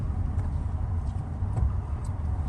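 A car manoeuvring to park outdoors, its low engine rumble steady and close with a slight rise partway through.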